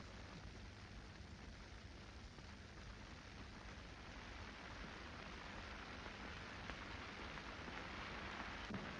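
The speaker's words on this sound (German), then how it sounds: "So, jetzt kann es regnen." Steady rain pours continuously as a film sound effect in a 1932 operetta, an even broadband hiss at moderate level with no breaks and no voices.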